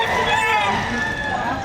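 Chickens call at the Padre Garcia livestock auction market in Batangas, with a drawn-out rooster crow ringing out fairly loud and near over the busy, crowded background while people talk nearby.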